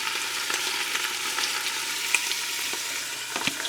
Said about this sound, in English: Yeah, oil splashback.